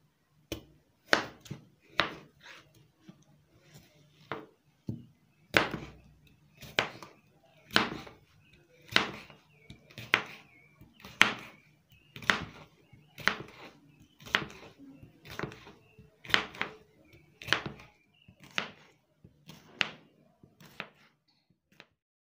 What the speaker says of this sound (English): We are done cutting the cucumbers